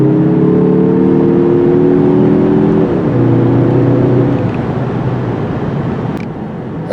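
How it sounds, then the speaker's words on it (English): A 2021 Mazda 3 Turbo sedan with a smooth, quiet turbocharged four-cylinder, heard from inside while driving, with a steady engine drone that shifts pitch once as the transmission changes gear, over constant road noise. "Not the quickest engine I've ever used, but very smooth and quiet."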